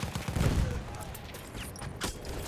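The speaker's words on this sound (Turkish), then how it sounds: "Tankın mermisini yedik." Gunfire and a tank shell hit in the Battlefield 1 video game, a heavy blast at the start followed by scattered rapid shots and distant explosions in a dense battle mix.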